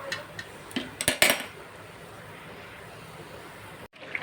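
Chicken stirred in a frying pan, a few sharp metal-on-pan scrapes and clinks clustered early, then a steady low background hiss until a brief dropout near the end.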